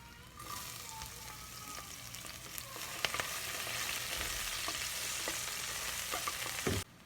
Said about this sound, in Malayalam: അപ്പോൾ നമ്മുടെ സവാളയൊക്കെ വഴണ്ടുന്നുണ്ട്